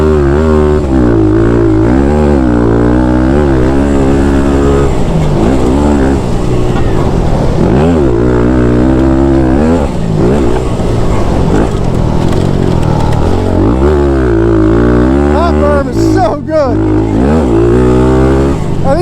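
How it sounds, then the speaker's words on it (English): A Thumpstar TSX140 pit bike revs hard around a purpose-built pit bike track, its engine climbing and dropping through repeated upshifts held high in the RPM, loud and continuous with a voice talking over it. "I think the key to riding one of these pit bikes is really nailing your shift points, keeping this thing high in the RPM."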